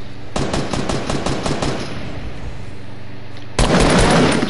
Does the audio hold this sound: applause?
no